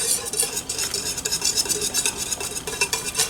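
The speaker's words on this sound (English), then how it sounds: "I just want to stir vigorously. I don't want the eggs to all clump together and cook in one big mass." Egg is stirred vigorously into hot soup broth in a wok, a quick rhythmic scraping and swishing with a light sizzle beneath, close and steady, with no talk.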